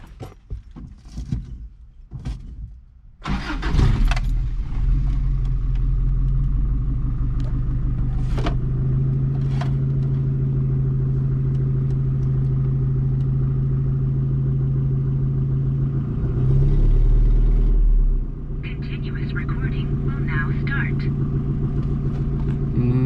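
A Toyota car engine being tested after a new tachometer install starts with a burst and then runs with a loud steady close rumble for most of the stretch, a revving swell near the end, and someone talking over it.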